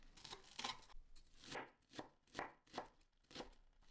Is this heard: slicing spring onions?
yes